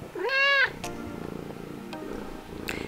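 A cat lets out a loud, clear meow near the start, followed by quieter fainter cries and soft rustling in an evening indoor setting.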